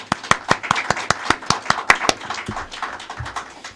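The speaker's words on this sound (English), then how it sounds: "so I want to give them a round of applause." Applause from an audience at a United Way of the National Capital Area check presentation, loud sharp individual claps in an irregular burst that thins out and fades toward the end.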